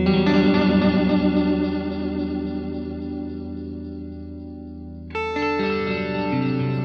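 Electric guitar through a delay pedal set to heavy modulation, with a sustained chord wobbling and echoing, slowly decaying, then a fresh strum near the end, warbling and close with no talk.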